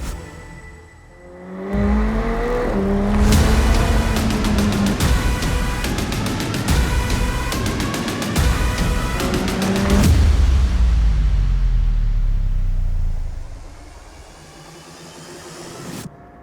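A McLaren 765LT Spider engine revs hard at full throttle through rising gears, each upshift cutting briefly before the roar climbs again, loud and close, then fades away.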